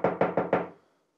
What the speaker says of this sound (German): fangen wir an mit Klopfen zum Beispiel